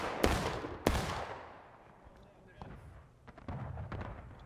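Union artillery fire during a large multiplayer battle in a Civil War video game: two sharp, loud cannon blasts early on, then fainter distant booms and crackling shots, with a voice talking over parts of it.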